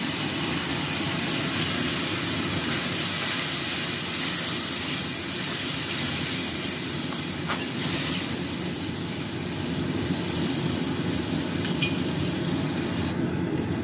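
Ground spices with a little turmeric hiss and sizzle in a pan after a splash of water, for a vegetarian drumstick curry; a steady, close, continuous hiss with no talk.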